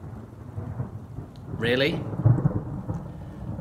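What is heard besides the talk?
rain and thunder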